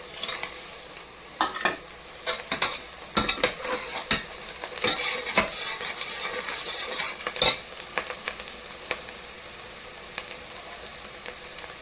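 Whole spices — bay leaf, cinnamon, cloves and star anise — fry in a pan with chopped onion, a steady sizzle broken by repeated sharp stirring clatters of a spoon against the pan, close and without voices.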